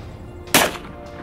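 A single loud .44 Magnum handgun shot fired at bulletproof glass, a sharp close blast with a brief ringing tail, standing alone against quiet background.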